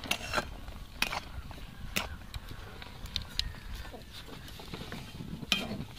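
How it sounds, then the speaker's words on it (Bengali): A spoon stirs semolina into water in a pot to make dough, giving soft, repeated scraping strokes at a steady rhythm, close and moderately quiet. "অল্প অল্প সুজি দিয়ে এরকম নাড়াচাড়া করতে থাকবো যাতে না দলা পেকে যায়"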